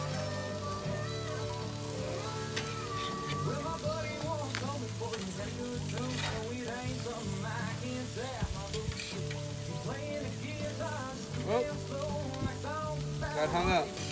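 Buffalo burgers on a camp grill just after the first flip, a steady dense crackling sizzle throughout with scattered pops and faint background tones.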